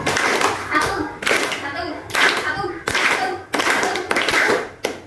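A group of children claps in unison in a classroom activity, producing dense bursts of hand claps roughly every second. Young voices chatter between and under the claps.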